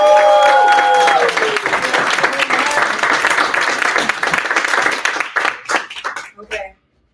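Audience at a gaming pitch competition breaks into loud applause with cheering, a dense clapping roar that holds steady and then thins into scattered claps before stopping abruptly; a few voices rise over the noise.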